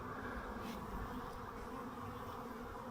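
A dense, continuous buzz of many honey bees, droning steadily at close range with no voices.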